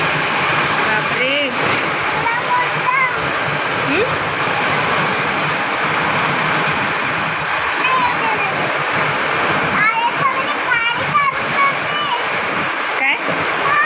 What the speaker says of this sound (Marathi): बापरे, खूप मोठा पाऊस आलाय